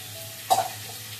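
Boiled soybeans tipped into hot spiced oil give one short, sharp burst of sizzle over a faint steady frying hiss, close and brief.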